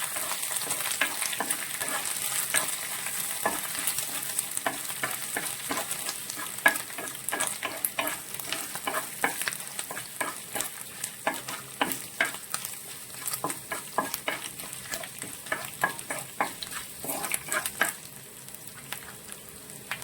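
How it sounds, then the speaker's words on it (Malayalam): Chopped ginger frying in hot oil for a lemon pickle, a bright continuous sizzle with crackling pops and repeated stirring clatter throughout, close and fairly loud, no voices. "ഇഞ്ചി ഒന്ന് മൂത്ത് വരുന്ന സമയത്ത്"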